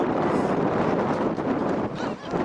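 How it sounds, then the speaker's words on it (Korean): Strong wind gusts across an outdoor youth football pitch during a match, a loud continuous rushing roar buffeting the microphone, with a commentator's voice faintly beneath. "바람에 도로가 더욱더 지금 세차게 지금 북창초등학교 골문을 향해서 바람이 불고 있는"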